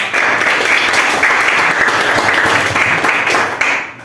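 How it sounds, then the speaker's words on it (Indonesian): Students in a classroom clap for a classmate during an ICT lesson, steady close-up applause that runs for about four seconds at even volume before trailing off. "Beri tepuk tangan dong buat temannya"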